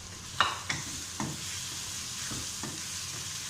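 Spices with bitter gourd and meat frying in a pan, a soft steady sizzle with a few sharp stirring clicks and scrapes near the start, close and fairly quiet.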